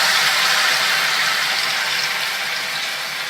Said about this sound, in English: Listen to that delightful sizzle.